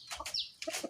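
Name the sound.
chickens clucking in a home chicken coop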